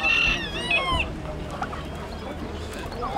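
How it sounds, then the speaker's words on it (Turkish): Brahma crossbreed chickens clucking and calling at a poultry market in Antalya, close and loud at first, then a busy stretch of softer clucks over crowd background. "Brahma tavuk. Brahma'nın kırmalı bunlar."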